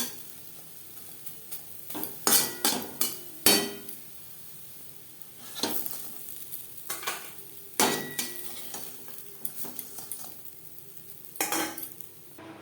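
Oil heats in a kadai after lentil fritters have been fried, with a low sizzle under sporadic sharp metallic clanks and scrapes of a spoon against the pan.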